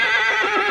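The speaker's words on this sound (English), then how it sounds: "What is up with the horse?" A horse neighs in Pathfinder: Kingmaker, one short, bright whinny heard close and clear with no talk over it.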